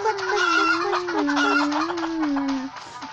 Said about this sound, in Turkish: Aa, gelin buraya tavuklar.